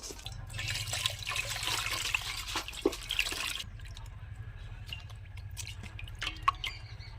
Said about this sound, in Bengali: প্রথম ফুলকপিটা জল দিয়ে ধুয়ে নেবো।